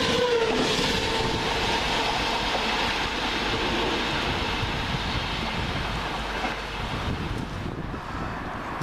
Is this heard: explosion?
no